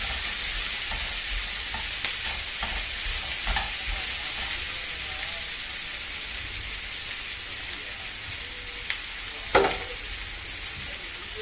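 Sweet potato pulusu frying over a medium flame gives a steady, close sizzle with occasional stirring scrapes and a sharp utensil knock near the end, no one talking.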